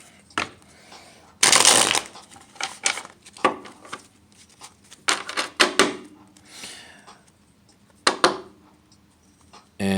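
Tarot cards shuffled by hand in a run of crisp riffling bursts and softer slides, close and irregular, with quiet pauses between and no voices.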